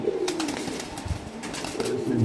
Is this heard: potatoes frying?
no